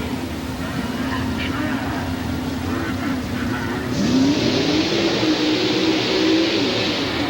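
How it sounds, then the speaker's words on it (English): A fuel-injected, nitrous-injected Chevrolet-powered race vehicle at a 1990 mud and monster event in Tampa roars down the track, its engine drone rising in pitch and swelling louder midway, heard from a distance over crowd noise and announcer talk. "Fuel injected, nitrous injected Chevrolet power in the near lane."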